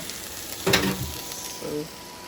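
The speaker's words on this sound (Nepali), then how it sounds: "यहाँनिर किमा बन्दैछ" Minced meat sizzles in a hot pan with a couple of brief bursts of frying, while a faint voice speaks softly under it.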